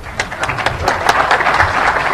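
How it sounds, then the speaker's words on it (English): Audience applause at a DEF CON hacking conference talk, a dense wash of many hands clapping that holds steady and fairly loud throughout, with no voices over it. "Applause, thank you."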